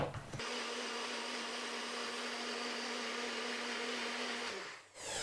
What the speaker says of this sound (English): This is a NutriBullet 900 and it blends really quickly.